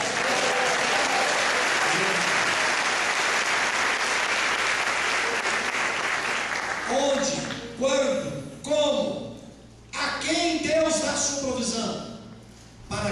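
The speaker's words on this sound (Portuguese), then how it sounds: "Aplauda o Senhor" A church congregation applauds loudly and continuously for several seconds, then the clapping fades as a preacher's voice takes over, speaking in bursts with short pauses.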